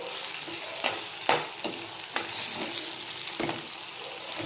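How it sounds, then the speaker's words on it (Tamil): Ginger garlic paste sizzles steadily in a hot pan for an egg curry while a spatula stirs it, with several sharp scraping knocks standing out over the continuous close frying hiss. "நல்லா பொன்னிறம் ஆகிற வரைக்கும் நல்லா இப்படி மிக்ஸ் பண்ணி விடுங்க"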